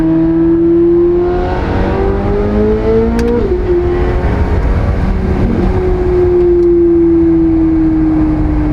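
A C8 Corvette fitted with magnetic paddle shifters pulls hard, its loud engine note climbing steadily, dropping abruptly at a quick gear change, then rising again in the next gear; heard from inside the car, with no talking.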